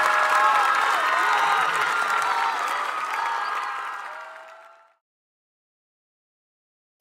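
Audience applause at a live concert of a cumbia band, dense and loud, holding steady for about four seconds before fading away to silence.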